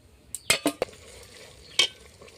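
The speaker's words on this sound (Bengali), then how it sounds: "এইভাবে শুধু নেড়েই যাব, ঢাকনা দেবো আর নাড়তে থাকবো।" A spoon scrapes and stirs handi chicken cooked with tamarind in a covered pot, giving four or five sharp, close clatters over a faint background sizzle.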